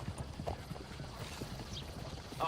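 Horse hooves clip-clop in a steady walking rhythm in a video game, moderately close, with faint ambient sound and a brief voice-like burst near the end.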